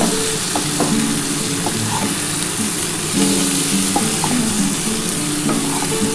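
Chopped tomato fries in fish oil for a vegetable ghonto, sizzling steadily while a spatula scrapes and stirs the pan in short, irregular strokes close by.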